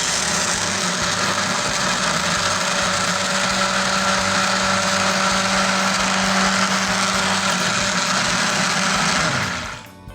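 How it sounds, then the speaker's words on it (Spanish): An electric hand blender whirs steadily, beating a homemade soap mixture of reused cooking oil for about nine seconds. The motor then winds down and stops at the end. "Revolvemos un poco y a batir."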